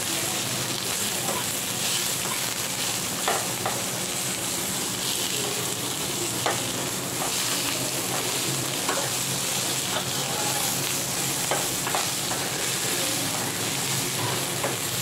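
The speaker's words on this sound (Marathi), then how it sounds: "लसूण मऊ झाला, तेलात भाजताना मऊ होतो लसूण." Garlic frying in hot oil, a steady close sizzle with scattered crackles and occasional stirring scrapes, moderately loud and continuous.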